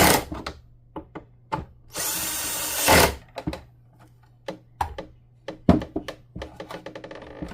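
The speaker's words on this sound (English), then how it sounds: "allow the drill to do the rest." A power drill whirs in one sustained burst for about a second, surrounded by clicks, taps and handling knocks of screws and parts.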